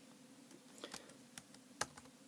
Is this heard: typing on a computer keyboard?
yes